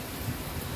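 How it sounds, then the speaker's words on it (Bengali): Light rain falls steadily outside, a soft, even hiss of drizzle with no distinct drops or thunder, close and quiet throughout. "পিট পিট বৃষ্টি পড়তেছে বাইরে। আজকে সারাদিন বৃষ্টি"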